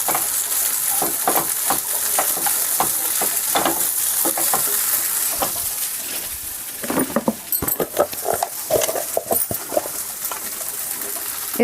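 Poha being stirred in a pan over a medium flame, a steady oily sizzle broken by scraping spatula strokes that grow sharper and more clattery toward the end, close up with no talking.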